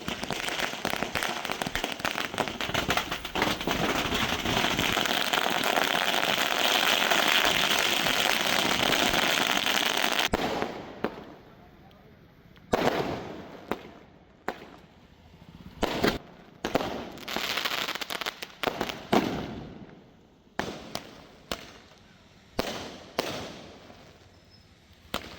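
Firecrackers set off by a celebrating crowd in Savli, Gujarat, crackle in a dense, continuous roar for about ten seconds, then give way to scattered loud separate bangs with quiet gaps between them.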